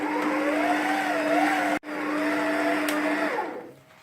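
Stand mixer kneading brioche dough at speed 2, a steady close motor whine with a rhythmic wavering hum, briefly cutting out midway, then restarting before winding down at the end.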